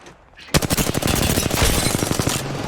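Rapid automatic gunfire from Apex Legends bursts in after a short quiet lead-in, a loud, dense stream of shots with steady rhythm lasting nearly to the end.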